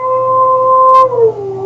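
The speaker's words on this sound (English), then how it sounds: "My dog loves to howl at the fire alarm" A dog howls at a fire alarm: a drawn-out howl with steady tones that slide downward near the end, loud and close, with no talking over it.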